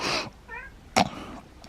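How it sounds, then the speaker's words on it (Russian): A cat lets out a single short, soft meow, followed a moment later by a brief sharp burst of noise, over a quiet room background. "Кто тут мяукает?"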